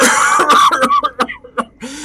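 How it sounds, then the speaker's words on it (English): A few harsh, close coughs in quick succession, each a short loud burst with brief pauses between. "He gives a big cough"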